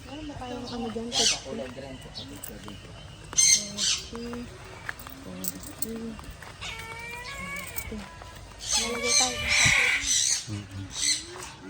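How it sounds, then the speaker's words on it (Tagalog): Lovebird parrots squawk and screech in repeated harsh, high bursts at fairly close range, a dense flock chatter peaking near the end, with other calls mixed in and people talking faintly underneath. "mga parrot. Lovebirds."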